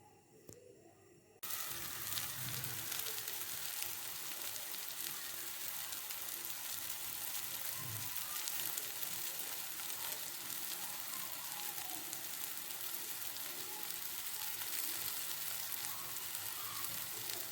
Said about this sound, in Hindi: तो आटा लगाकर फ्राई करें।